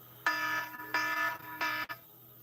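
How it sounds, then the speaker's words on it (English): A personal alarm beeps three times in a steady rhythm, each a bright, buzzing electronic tone lasting about half a second, close and fairly loud over a low background hum. "That was my alarm going off"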